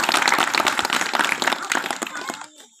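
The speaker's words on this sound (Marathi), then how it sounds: "तुम्हा सर्वांसाठी एकदा जोरदार टाळ्या वाजवा." An audience at a Marathi village sermon and Hari kirtan programme claps in a dense, steady burst of applause that fades out near the end.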